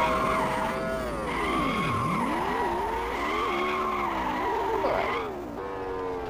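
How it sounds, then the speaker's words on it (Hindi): Car drifting in the Extreme Car Driving Simulator video game: a long tire skid squeals continuously, with its pitch swooping down and back up over the steady engine drone. No one speaks. "ड्रिफ्टिंग तो एकदम मस्त होती है गाइस"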